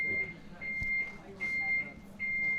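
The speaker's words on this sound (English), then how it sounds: "Somebody set off the fire alarm." Fire alarm at an outdoor cricket ground, a steady high-pitched electronic beep repeating in long pulses, moderately faint under a voice and background crowd noise.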